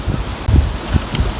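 Gusty wind of up to 65 mph buffets the microphone at a hammock campsite in low thumping bursts, with a rustling tarp texture over a short stretch.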